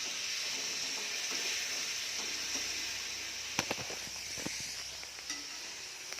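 Muthiya dumplings frying in a tempering, a steady loud sizzle throughout with a few sharp pops and crackles near the end.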